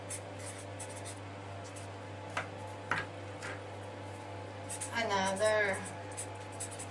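A pen scratches across paper in short strokes, faint and close, under a soft talking voice with a steady low hum behind it.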